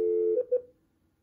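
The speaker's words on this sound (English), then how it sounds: "So I'm going to go ahead and type in 93" A Cisco 7941 IP phone sounds a steady tone followed by two short DTMF keypad beeps dialing 93, clear and close with no talking.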